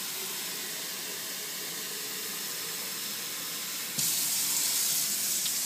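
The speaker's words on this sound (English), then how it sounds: "I'll just cover those with some water from the tap" Tap water runs continuously into a container of pitted Medjool dates, a steady close hiss that grows louder and brighter partway through.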